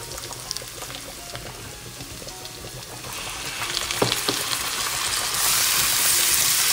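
Chicken mince dropped into a hot pan for lasagna filling, a steady frying sizzle that grows louder and brighter as the meat spreads out, with a few stirring scrapes, close, no talking.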